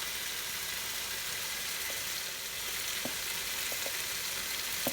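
Potatoes with white cumin roast in a pan, giving a quiet, steady hiss of frying with a few faint stirring taps toward the end.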